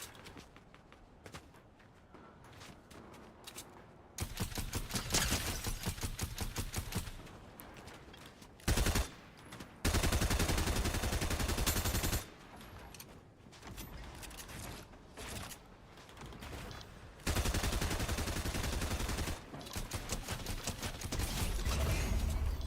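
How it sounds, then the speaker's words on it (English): Assault rifle fire in Fortnite, heard as loud rapid bursts of automatic shots in several long strings, separated by brief quieter gaps, close and alone without talk. "How about let's use an AR? Not an SMG from this distance."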